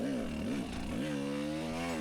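A dirt bike engine at a Tough Like RORR hard enduro qualifier revs with a steady buzzing drone while the rider slips the clutch, pitch dipping and rising then holding high and loud close by.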